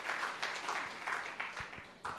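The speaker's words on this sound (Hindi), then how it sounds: "उसका करतल ध्वनि से, तालियों से स्वागत अवश्य होना चाहिए।" Crowd applause at a Hindi-language public talk, a soft, steady patter of many hands clapping in a few swelling waves, fairly distant and alone without voices.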